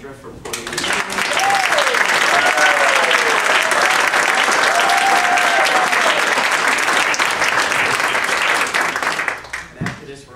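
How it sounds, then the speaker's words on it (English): Sustained audience applause at a public talk in San Luis Obispo, California, dense clapping filling most of the stretch with faint voices and a whistle or cheer inside it, then tapering off near the end. "Can we first of all have a round of applause for Sandra for putting this together?"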